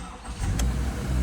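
A car engine cranks and catches during a push-button start, a low broadband rumble rising near a brief mid-clip burst, then settling into a steady close idle with no talk.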